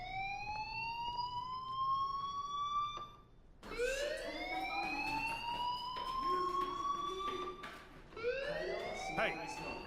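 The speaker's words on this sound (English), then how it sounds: "do you hear that fire alarm? That means you should be outside" Fire alarm in the video game Life is Strange, at a school: a loud, rising electronic wail repeats in long sweeps, briefly cutting out before resuming, with a voice talking underneath.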